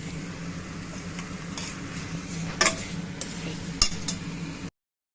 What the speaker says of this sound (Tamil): தக்காளி கொஞ்சம் போட்டுட்டு நல்லா கிண்டணும்.